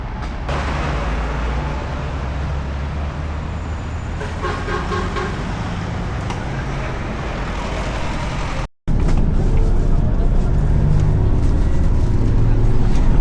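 Riding inside a city bus in Shymkent, Kazakhstan: a steady loud engine and road rumble fills the cabin, with faint chatter and rattles, a brief cut, then the drone continues.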